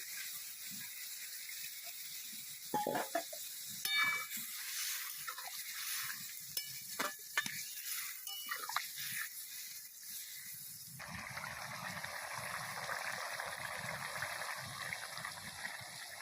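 A Bengali bitter curry of eggplant, drumstick stalks and fish head fries with a steady crackling sizzle until water is poured into the hot pan, which turns to a louder, broad, continuous hiss and bubbling.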